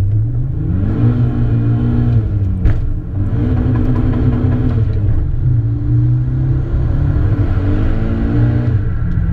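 A turbocharged Hyundai Elantra pulls hard at 10 PSI of boost, its engine droning loudly and rising through the revs in repeated climbing sweeps, close and continuous with no talk.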